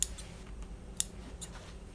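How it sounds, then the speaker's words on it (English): Small scissors trim thread on a sewn Christmas pillow, giving two crisp, close snips about a second apart. A few faint ticks sit between them in a quiet room. "Let me trim my thread here."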